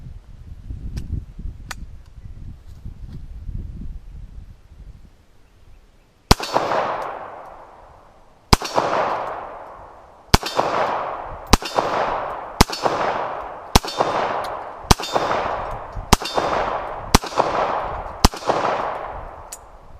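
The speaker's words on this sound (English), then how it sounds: "That is the most uncomfortable gun I've ever fired in my entire life." Close, sharp shots from a cheap Lorcin L9 9mm semi-automatic pistol: after a few quiet seconds, about ten loud cracks ring out, the first two spaced apart, the rest in a quicker, fairly even string, each with a brief echoing tail.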